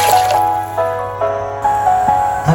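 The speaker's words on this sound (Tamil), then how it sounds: "அது கூட 1/2 லிட்டர் தண்ணி சேர்க்கிறேன்." Water added to a pot of rice with salt for cooking, heard as intermittent splashing and trickling pours in short bursts, close and fairly loud, with no talk over it.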